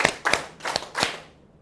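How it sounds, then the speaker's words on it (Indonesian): A group claps hands in a counted rhythm during a classroom teaching session, giving four sharp, close claps in uneven groupings, with the last two more spaced out. "Tepuk tangan 1, tepuk tangan 2, tepuk tangan 3, tepuk tangan 4"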